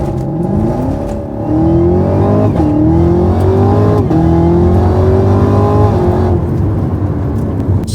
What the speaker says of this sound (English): I've literally never launched a car ever in my life with launch control.